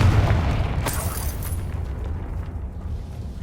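A Confringo blasting curse from the Hogwarts Legacy video game goes off as a loud booming explosion with a sharp burst near the start that rumbles away and decays over a few seconds.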